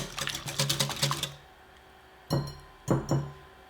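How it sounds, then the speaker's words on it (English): A fork whisks two eggs with melted butter in a bowl for red velvet cake mix crinkle cookies, a quick run of clinking taps against the bowl, then a pause and a few separate clinks. "with a fork or whisk, let's just whisk this together"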